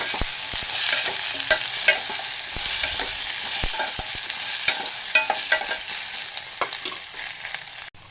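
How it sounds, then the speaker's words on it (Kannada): Sliced okra with a spoonful of turmeric fries in a pan with a continuous sizzle close by, broken by frequent sharp clicks and scrapes of a spoon stirring, with no voices. "ಬೆಂಡೆಕಾಯಿ ಚೆನ್ನಾಗಿ ಹುರ್ಕೊಂಡು"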